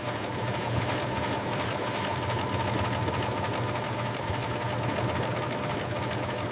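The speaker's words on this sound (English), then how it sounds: "Automated stitching." Automated sewing machine stitching leather in a luxury bag factory, a loud continuous mechanical whirr with rapid even needle beats, close up and steady throughout, with no voices.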